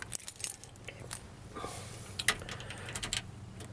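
Car keys jangle quietly nearby in a garage while an automotive ignition kill switch is worked on, giving scattered small metallic clinks and rattles over a faint background hum.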